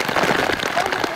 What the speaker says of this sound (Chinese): 阳明山的风雨显著